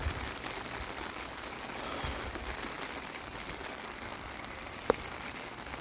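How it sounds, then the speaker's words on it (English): Heavy rain pours down outdoors in Texas during an evening storm, a steady broadband hiss of drops on surfaces with one sharp tap near the end, no voices. "I wanted to play in the rain."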